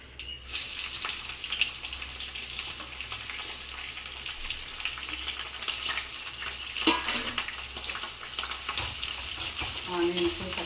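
Chopped onions and green chillies frying in hot oil in a pan, a steady loud sizzle throughout with occasional scrapes of stirring, for a mint paneer pulao.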